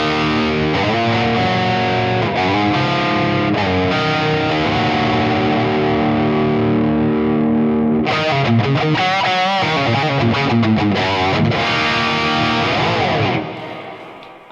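Electric guitar played through a TONEX Plug amp modeler with heavy distortion, loud sizzling sustained chords and single notes ringing out continuously, alone with no talking, fading at the end.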